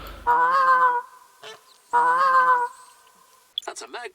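Goose call lure in theHunter: Call of the Wild: two loud, drawn-out nasal honks with a pause between them, then a burst of rapid, choppy honking at the end.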